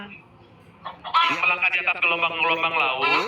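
A chicken clucks and squawks repeatedly and loudly close by, breaking in partway through while someone speaks underneath.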